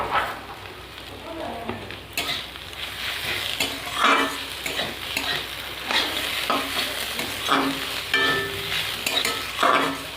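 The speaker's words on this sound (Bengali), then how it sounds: "এভাবে নাড়তে নাড়তে আমি সাতটাকে ভেজে নেব" Jute leaves are stirred and fried in a pan, with repeated scraping strokes of a spatula over a constant sizzle, close up and without speech.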